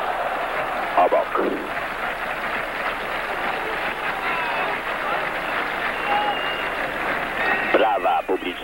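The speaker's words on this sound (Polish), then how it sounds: "Brawa publiczności za dynamiczną akcję zespołu polskiego." A stadium crowd applauds and roars throughout at the 1976 Olympic football match between Poland and Brazil, a steady broad wash of clapping and cheering beneath someone commentator talking over it.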